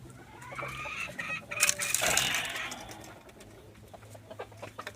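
A rooster clucks and calls from close by, with a louder squawking burst midway amid background farmyard bird chatter.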